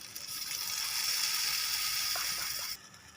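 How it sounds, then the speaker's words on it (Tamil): Water with chili powder, curry and drumsticks bubbling in a pan, a steady hissing simmer that holds evenly for almost three seconds and then drops away, close and fairly loud with no voices. "இப்போ இது கொதிச்சிட்ருக்கு."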